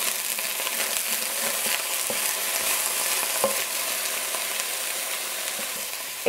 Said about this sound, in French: les brocolis, on va cuire pendant 2 minutes avant de rajouter les prochains légumes